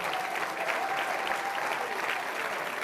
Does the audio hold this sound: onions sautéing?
no